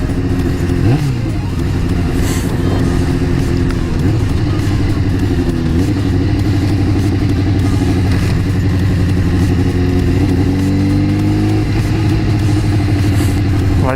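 An old motorcycle engine rumbles continuously up close, with uneven revs rising and falling and a clattery, lumpy idle throughout.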